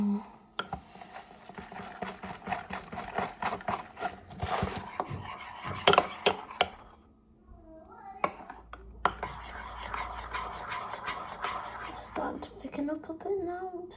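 Cupcake batter being mixed in a bowl with a spoon, giving uneven scraping, knocking and rubbing sounds in irregular bursts, close up, with a short quiet pause partway through and faint soft talk.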